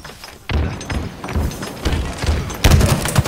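Repeated heavy booms and thuds from grenade blasts in a co-op shooter game, several explosions in quick succession with a loud burst near the end, dense and continuous with game noise throughout.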